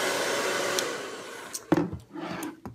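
A hair dryer blows cool air on a Yorkie's fur after a bath, a steady broadband whoosh for about a second and a half, then breaking into shorter uneven bursts and pauses as it is moved around.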